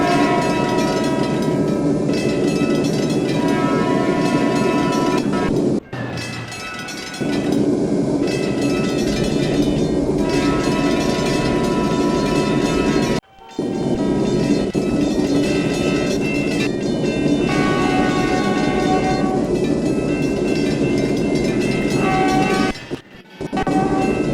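A Shinkansen-style train at Virginia Beach Station in the Trainz railroad simulator game, loud and close, with a steady rumbling run and tonal horn blasts, broken by several brief dropouts.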